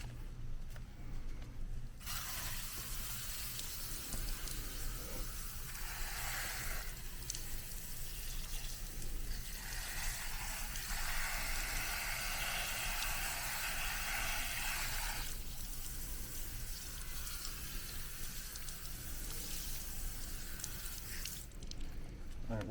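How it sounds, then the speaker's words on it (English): A steady stream of water rinses wheel and tire cleaner off a car wheel with polished surfaces, a broad, continuous hiss and splash that swells and eases in spells with no talk. "And then rinse it off."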